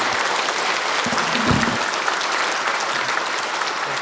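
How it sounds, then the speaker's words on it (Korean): Applause fills a Catholic church during a newly ordained priest's first Mass, a continuous dense clapping from the congregation that holds steady throughout. "우리 모두 큰 박수로"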